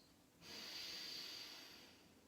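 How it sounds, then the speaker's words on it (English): One slow, soft inhalation through the nose during a relaxed Pilates and meditation session, rising gently, holding for about a second and then fading, heard close and quiet with no talking. "just feel the air enter through your nose"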